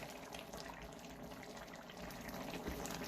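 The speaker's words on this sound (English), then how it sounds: "I'm going to put enough hot water." Quiet pouring of hot water into a pot for curry goat, a soft continuous trickle and splash filling the vessel, faint and steady with no talking.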